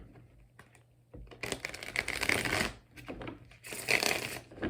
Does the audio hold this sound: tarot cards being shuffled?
yes